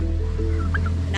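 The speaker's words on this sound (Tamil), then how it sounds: "இது கின்னி கோழி, நம்ம நார்மலாக வீட்டில் வளர்க்கக்கூடிய கோழி வகைகள்" Guinea fowl and chickens at a resort in Nagercoil give a few short, rasping calls over a steady low background hum, fairly close but not loud.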